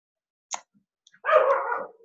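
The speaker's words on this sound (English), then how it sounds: "every time I hear my dog barking" A dog gives a short click, then one drawn-out bark that trails into a whine, heard close in an otherwise quiet room.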